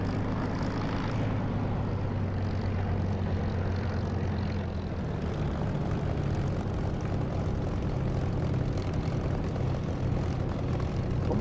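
In the DCS flight simulator, a propeller aircraft's engine drones at a steady, unbroken pitch near the runway, a continuous close hum and buzz with no voices.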